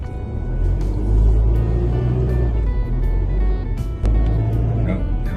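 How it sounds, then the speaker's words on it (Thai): A car drives steadily along a highway toward a toll and castle area, its low engine and road rumble constant and fairly loud from start to finish, with no pauses. "ขออนุญาตขับรถเนาะไปอีก ประมาณชั่วโมงหนึ่งหอดเนาะ"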